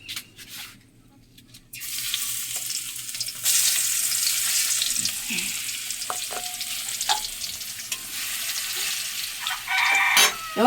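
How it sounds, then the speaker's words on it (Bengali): Garlic and dried red chillies hit hot oil in a pan for tempering, giving a steady close sizzle and crackle that starts abruptly and runs on with a few stirring clinks and brief rises. "তেল এখন গরম হয়ে গেছে। ফোড়নের জন্য আমি রসুন এবং শুকনো ঝালগুলো একসঙ্গে দিয়ে দেবো।"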